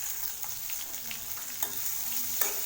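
Chopped onion sautéing in hot oil in a pan for an egg side dish to serve with chapati: steady soft sizzle and crackle with occasional light stirring scrapes, close by and without talk.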